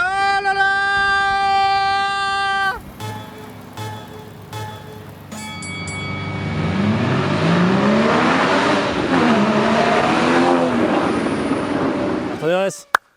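Renault Clio 2 accelerating hard past a Porsche GT4, engine note rising and falling through gear changes, loud and close, with excited voices talking over it.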